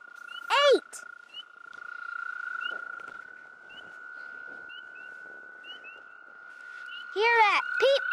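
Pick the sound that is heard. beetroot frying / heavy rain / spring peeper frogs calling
spring peeper frogs calling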